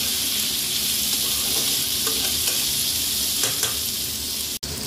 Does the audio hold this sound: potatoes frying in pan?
yes